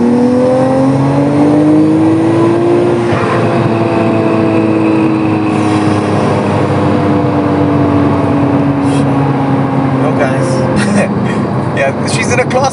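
A Tomei-built Nissan Skyline R34 engine on overrun, droning steadily and close as the car is driven on Cape Town roads, with a falling engine note and someone talking over it.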